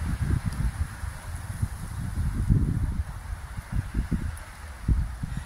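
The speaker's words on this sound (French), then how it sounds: "T'entends le vent?" Soft gusting wind with a low, rumbling rustle, steady and continuous with swelling bursts, heard alone without voices.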